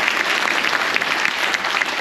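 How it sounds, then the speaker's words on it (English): A packed crowd at a military appreciation gathering aboard a cruise ship gives Medal of Honor recipients sustained applause, a dense, even roar of clapping throughout. "another big round of applause for our Medal of Honor recipients"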